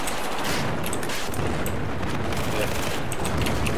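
Rapid bursts of gunfire with heavy booms of tank fire in a large-scale Battlefield 4 multiplayer battle, dense and continuous throughout, loud and close, with players shouting over the din.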